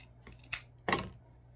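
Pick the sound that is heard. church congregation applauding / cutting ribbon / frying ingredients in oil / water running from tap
cutting ribbon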